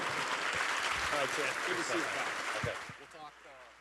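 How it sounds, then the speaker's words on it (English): An audience at a radio centennial celebration applauds for Governor Pawlenty, a soft, steady wash of clapping that fades toward the end, with someone speaking over it. "How about a round of applause for Governor Pawlenty?"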